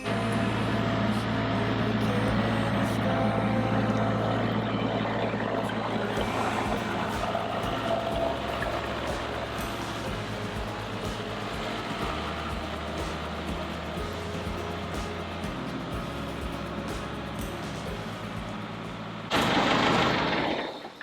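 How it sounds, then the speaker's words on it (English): A tractor engine rumbles and chugs continuously at close range, its low drone shifting slightly, ending with a sudden louder burst. "Alright, do you think that the tractor will fit?"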